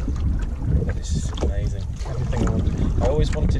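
A canoe glides on Loch Maree in the Scottish Highlands, with soft paddle strokes and water lapping against the hull under steady wind buffeting the microphone, while a voice speaks briefly over it.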